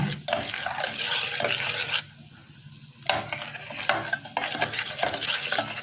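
Homemade golden syrup being stirred in a pan as it browns, a spoon scraping and clinking against the metal in steady strokes over a low bubbling sizzle, with a brief quieter pause midway.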